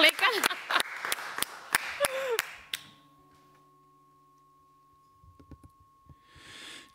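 A small home audience claps a steady, even beat along with a singing voice, close and fairly loud, and the clapping stops about halfway through, leaving a faint sustained tone and a few soft knocks.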